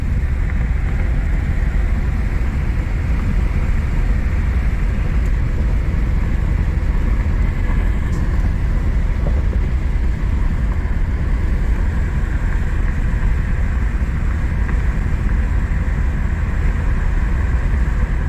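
Cabin drone of a 1993 S10 Blazer on the road after an engine install, a loud, continuous low rumble of engine and road noise with steady wind hiss and no talking.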